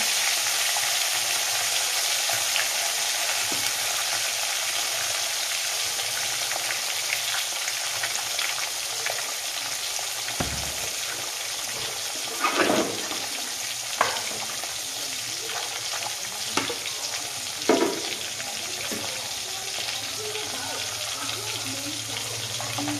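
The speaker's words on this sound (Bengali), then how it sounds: "প্রথমেই কড়াইটাকে ভালো করে গরম করে নিয়েছি, তারপরে তেলটা দেওয়ার পরে মাছ দিয়ে দিয়েছি।" Large pieces of fresh pond rohu fish frying in hot oil in a heated wok, a steady loud sizzle running throughout with a few brief sharper crackles and stirring clatters near the end.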